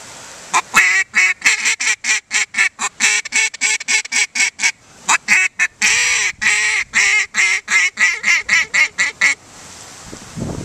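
A rapid, loud series of duck-call quacks, about two dozen short nasal honks in a steady chattering run, mimicking a hen mallard, with no talking.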